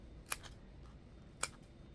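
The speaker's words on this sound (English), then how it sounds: "It helps to have a sharp pair of scissors." Sharp scissors snip coffee filter paper into small triangles, two quick crisp cuts spaced about a second apart over a quiet background.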